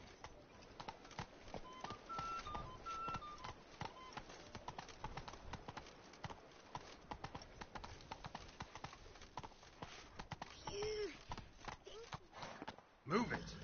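Hooves of Roach, a horse in The Witcher 3: Blood and Wine video game, clip-clop in a rapid, continuous rhythm alongside speech and game sounds, with a sharp thump near the end.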